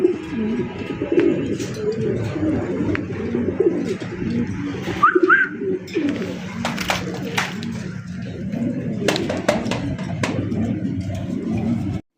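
Pigeons at a pigeon sale coo repeatedly in soft, low rolling calls close by, mixed with flutters, light knocks and occasional brief bird chirps.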